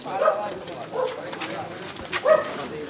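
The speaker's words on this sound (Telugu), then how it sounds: "ఏమ్మా అన్ని కుక్కలు పెట్టినారు?" Several dogs give short yips and barks in a lane of Aasupatri Palem, Tadipatri, during a neighbourhood visit, heard under people talking nearby.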